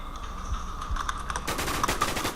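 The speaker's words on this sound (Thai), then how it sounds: "กันนี่คุงยิงหมดเลยสัตว์กูยิงแค่ตัวเดียว" Rapid gunfire from the video game WarZ crackles in quick bursts, fairly quiet and sharp, with a faint steady hum underneath.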